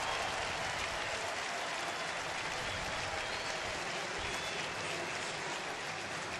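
Baseball stadium crowd at a Washington Nationals game applauds a player, a steady wash of distant clapping and cheering spread across the stands, continuous and even throughout.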